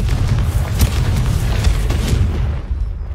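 A spell explosion from a blasting curse gives a continuous, loud, low rumbling roar with crackling bursts through it, fading at the end.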